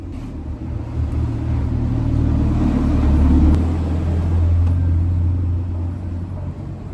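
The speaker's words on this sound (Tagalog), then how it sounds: "Super ingay ng tambutso na yun. Yung motor na yun." Loud motorcycle exhaust rumbles steadily nearby for several seconds, a deep growl that swells toward the middle and then eases, with no talking over it.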